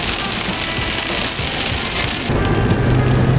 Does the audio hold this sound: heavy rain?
yes